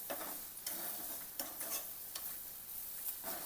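Bitter gourd thecha topped with coriander is sautéed in a pan, with a soft steady sizzle broken by several regular scraping stirs of a spatula, close and fairly quiet.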